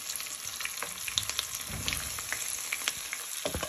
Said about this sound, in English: So you now want to start frying your cauliflower